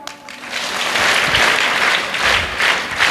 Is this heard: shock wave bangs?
no